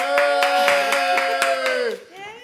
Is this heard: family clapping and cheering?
yes